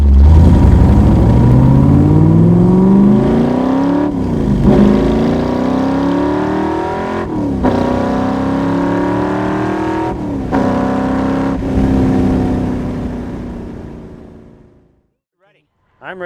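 A 1965 Backdraft Cobra RT4 accelerates hard through several gear changes, its loud engine rising in pitch, dipping at each shift and climbing again, heard from inside the car before it fades out near the end.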